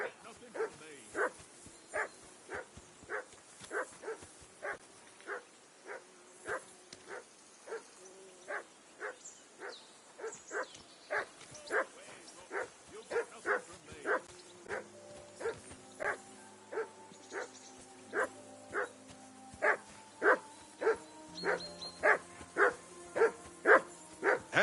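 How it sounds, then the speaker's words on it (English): A dog barks in a steady, regular series of sharp yelps, dozens in a row at an even rhythm, moderately distant, with faint background tones entering partway through. "Whistle at that mutt of yours to stop barking."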